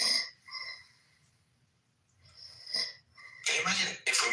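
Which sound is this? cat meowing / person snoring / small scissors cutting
person snoring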